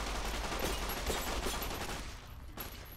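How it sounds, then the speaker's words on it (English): Dense, rapid gunfire from a caravan shotgun in Fallout: Dust, a continuous close barrage of booming shots for about two seconds, then fading into quieter game ambience with a final faint shot. "Strap the fucking caravan shotgun for a sec."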